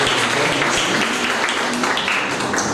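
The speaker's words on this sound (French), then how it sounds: "nous applaudissons Coates pour ce projet" A crowd claps for a sponsor at the opening of an IT corner in Richelieu, Mauritius, a short burst of dense, loud applause that runs without a break.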